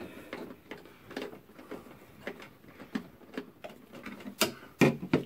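A mounting screw is driven into the base of a Sansi 27W motion security light, giving irregular clicking and ratcheting ticks up close, with a few sharper clacks near the end.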